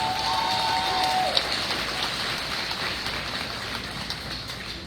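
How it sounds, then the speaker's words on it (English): Steady, hissing applause from a graduation audience, sustained and fairly distant, with a brief voice at the start. "Another round of applause."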